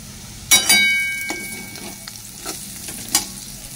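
Food frying in a home kitchen pan, with a steady soft sizzle under sharp metallic clatters and scrapes of stirring near the start and again toward the end.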